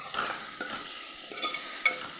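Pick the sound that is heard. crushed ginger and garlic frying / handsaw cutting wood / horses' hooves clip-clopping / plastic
crushed ginger and garlic frying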